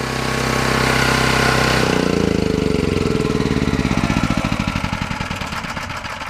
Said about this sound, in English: We're going to turn the generator off now.